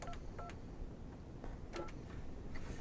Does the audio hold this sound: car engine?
no